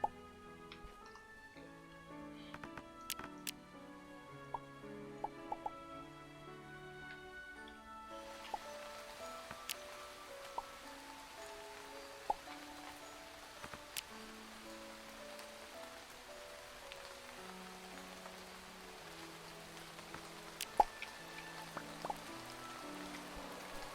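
Rain falls steadily in the video game Starbound as a soft, continuous patter with scattered ticks and drips, layered over quiet melodic game music.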